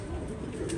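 A pigeon coos softly and continuously through the whole moment, its low murmuring coo steady and fairly close, with no voices over it.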